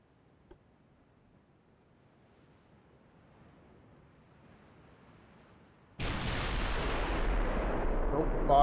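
Naval guns fire in the Ultimate Admiral: Dreadnoughts warship game, a heavy sudden roar that bursts in after near-silence and holds loud and broad, like sea and wind noise after a salvo.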